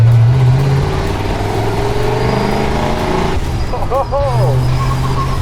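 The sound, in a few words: 1920s hot rod car engine driving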